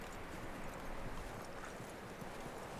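Horse hooves clip-clop in Red Dead Redemption 2, a steady dense patter of hoofbeats under continuous outdoor background noise.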